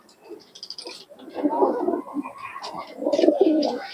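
Pigeons coo in soft, repeated rounded calls at close range, swelling in two bursts, with a few higher chirps; someone talks intermittently.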